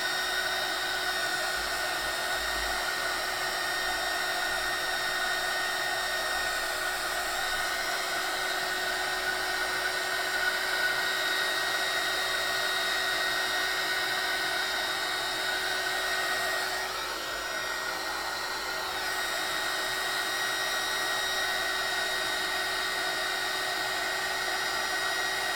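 A heat gun blows hot air over wet ink artwork, a loud unbroken whirring hiss with a faint motor whine that holds steady for the whole stretch, dipping only briefly.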